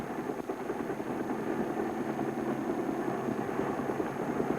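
Steady, rhythmic rotor chop of a small Navy helicopter gunship flying over the Mekong Delta in Vietnam, a constant moderate drone heard from some distance with no pauses.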